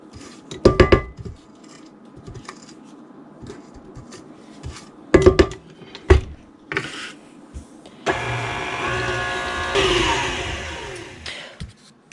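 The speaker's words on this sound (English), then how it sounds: "I am going to stop and scrape the sides of my bowl" A spatula scrapes around the sides of a mixing bowl holding almond bar batter, with sharp clanks against the bowl followed by a longer grinding stretch near the end.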